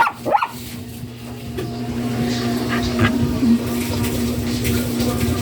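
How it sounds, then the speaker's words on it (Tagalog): Dogs bark and yip indoors, a sharp burst at the start followed by scattered fainter yelps over a low steady hum. "maingay mga aso ko sa loob ng bahay."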